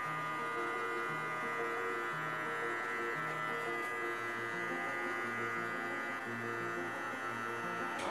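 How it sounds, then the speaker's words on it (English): Electric hair clipper with the lever fully closed, buzzing steadily and close during a bald fade haircut, a constant mains-like hum with slight wavering as it moves over the head. "First, we're gonna start with that clipper lever all the way closed."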